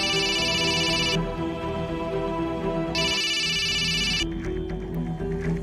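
A phone's electronic ringtone goes unanswered in an indoor domestic scene, sounding in two loud, bright bursts separated by a short pause.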